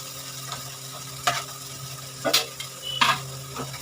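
Small hilsa fish bharta frying in oil without water sizzles softly while a utensil stirs it, with several scraping, clattering strokes against the pan at irregular intervals.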